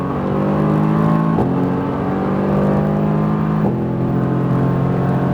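A Mercedes-AMG GT R engine hums steadily with harmonic tones that shift in pitch twice, like gear changes while accelerating, loud and close throughout.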